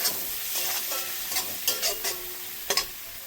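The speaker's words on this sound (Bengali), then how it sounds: "গুঁড়ো মশলা দিয়ে একটু ভেজে নেবো আর একটু।" Ground spices, chilli powder and cumin powder, being stirred and fried in a pan for paneer paratha, with a steady soft sizzle and a few scraping strokes of a spatula, fairly quiet.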